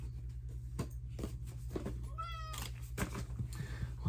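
A cat meows at the door, wanting into a room, with one clear drawn-out meow in the middle among softer sounds over a steady low hum, fairly quiet and without talk.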